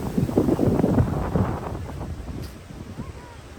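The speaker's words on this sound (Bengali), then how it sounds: "অনেক বেশি বাতাস এখানে, কিছুটা শীতও শীত লাগছে।" Strong wind at Niagara Falls buffets the microphone in loud low gusts at first and then eases to a softer rush, with no talking.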